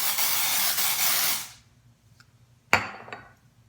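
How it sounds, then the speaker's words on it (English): A close aerosol can hisses in one steady spray for about a second and a half, then stops, followed by a sharp knock and faint clatter. "all you have to do is take it and spray"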